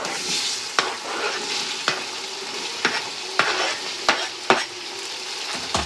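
Tomatoes sizzle in a frying pan with spices for a Gujarati dhokli curry, a spoon striking and stirring at roughly regular intervals, close and clear over continuous frying.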